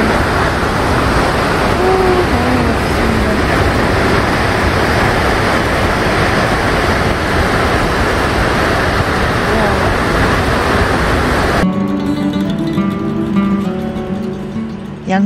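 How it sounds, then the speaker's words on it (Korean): Loud, continuous roar of Bear Creek Falls pouring down a canyon near Ouray, Colorado, a dense wall of rushing water filling the scene before it cuts abruptly to music near the end. "양쪽에서 떨어지는 거대한 폭포의 물소리와 경관이 장관을 이루는 베어 클릭 폴스"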